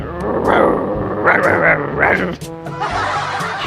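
A voice imitates big dogs fighting, making snarling, growling and yelping sounds in a few close, loud bursts.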